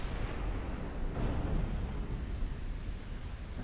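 Naval guns fire on battleships in the Ultimate Admiral Dreadnoughts video game: a continuous rumbling roar of distant heavy gunfire with muffled booms layered through a steady, dense background.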